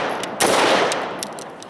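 A single sharp AR-15 rifle shot fired through a Battlecomp 1-inch muzzle brake compensator cracks close by, then rings out in a long fading tail with faint ambient noise; nobody speaks.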